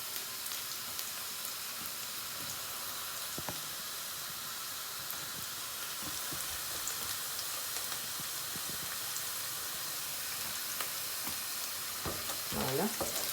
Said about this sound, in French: je ne vais pas cesser de remuer, hein, pour éviter que ça ne crame